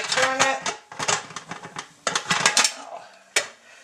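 Metal lid of a Presto pressure cooker being turned and worked loose, sharp clanking and scraping in irregular bursts, close and fairly loud, with no talk.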